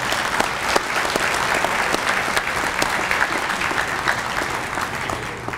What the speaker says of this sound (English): just give them a round of applause for their hard work.